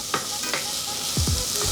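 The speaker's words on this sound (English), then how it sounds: "We are gonna mix them in with the onions and let them soften up a bit" Mushrooms and onions sizzle in a pan for vegetarian chili, with a spoon scraping and stirring through them in a few quick strokes over the steady frying hiss.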